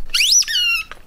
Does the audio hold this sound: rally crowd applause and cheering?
no